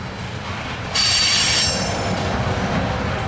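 A long CSX freight train carrying ethanol loads rumbles past steadily and loudly, with a bright metallic wheel squeal rising partway through over the heavy rolling noise.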